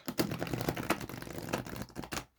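A thick-stock tarot deck is shuffled in quick, close riffling bursts of papery flutter and clicks, fairly quiet, fading out at the end with no talk.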